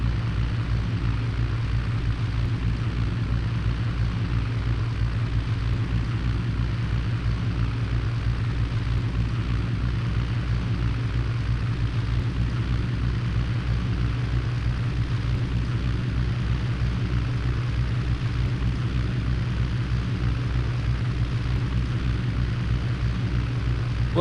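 Light aircraft cockpit on short final approach with flaps at full, filled with a steady, loud, low engine and propeller drone that holds constant throughout.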